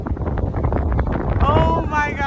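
Strong wind buffets the microphone on the Gatlinburg Sky Bridge high in the Smoky Mountains, a loud continuous rumbling roar with gusting swells, while someone talks excitedly over it.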